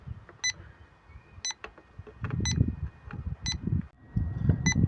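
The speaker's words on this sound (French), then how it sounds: "s'il y a une fuite, donc il va se mettre à biper bien plus fort" Handheld refrigerant leak detector checking heat pump fittings outdoors in wind, giving about six short, regularly spaced electronic beeps over steady wind noise and low rumble.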